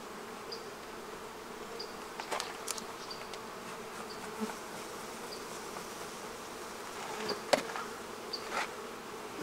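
Honey bees hum steadily throughout an open beehive that holds two queens, a dense, even buzz with occasional louder individual bees passing close by and faint crackles of movement among the frames.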